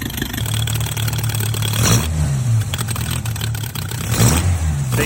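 A Toyota AE86 fitted with FCR flat slide carburetors idles steadily, with a continuous mid-pitched rumble and two brief blips of revving, heard up close without talk.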